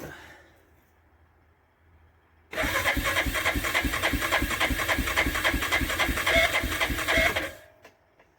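A 2004 Yamaha Kodiak 450 ATV engine cold starts after a quiet pause, catching abruptly and running at a loud, steady, rapid idle for about five seconds before cutting off.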